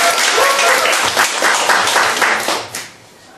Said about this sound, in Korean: 큰 박수로 보실게요